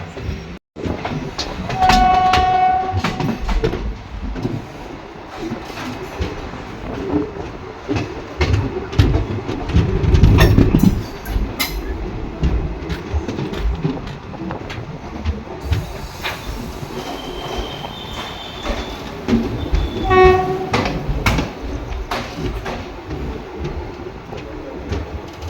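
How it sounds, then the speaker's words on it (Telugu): Express train 17253, Guntur to Aurangabad, heard from inside a sleeper class coach: a steady rolling rumble with rhythmic wheel clatter, occasional squeals and a faint horn in the distance. "ట్రైన్ వచ్చి ఆగింది బీదర్లో 1:08కి రైట్ టైం."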